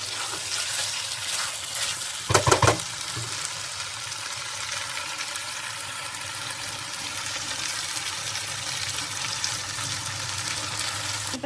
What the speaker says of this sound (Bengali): গ্যাসটা একটু বাড়িয়ে দেবো যতক্ষণ পারবো কষিয়ে যাব মাংসটা